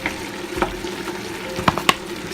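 Flour is stirred into sautéed vegetables in a pot for a creamy chicken mushroom soup, with soft frying sizzle under a few scraping strokes of a spoon, close and moderate.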